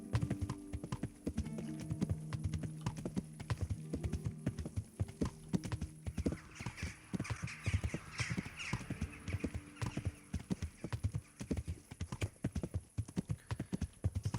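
A horse ridden at a steady clip in Kingdom Come: Deliverance, its hooves clopping continuously in a brisk, regular rhythm, close by, over low ambient game sound.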